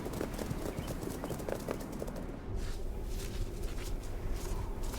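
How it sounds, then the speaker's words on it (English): Tibetan wild asses gallop across a high plateau, a dense, continuous patter of hoofbeats on hard ground, steady and fairly close, with a brief shift in the drumming midway through. "Of all wild asses, the Tibetan wild ass is the largest, but their size doesn't impair their agility. They can gallop at speeds of up to 50 kilometers per hour."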